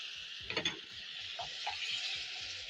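Tomatoes and tomato paste are stirred into cooked onions for a beef and chickpea stew: a few soft scrapes of a spoon over a quiet, low sizzle, faint and close, with no talking.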